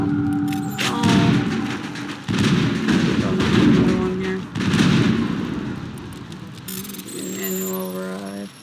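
Sci-fi weapons fire in Mass Effect, with bursts of booming shots and thuds in close succession and electronic tones between them, loud and near, while game voices speak over part of the action.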